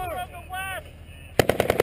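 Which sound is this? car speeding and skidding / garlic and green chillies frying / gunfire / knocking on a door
gunfire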